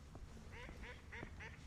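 Ducks quack in a short run of four or five nasal calls at a steady, rhythmic pace, faint and somewhat distant over background noise.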